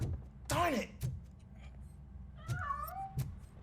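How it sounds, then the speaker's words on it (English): A cat meows twice in the video game RoboCop: Rogue City with rising, wavering cries, separated by a pause, over a low background rumble with soft thumps. "That cat must be hiding inside."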